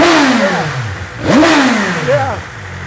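A BMW M 1000 RR sportbike engine revs hard close by, the pitch climbing and falling through repeated throttle blips, with a brief clattering swell in the middle.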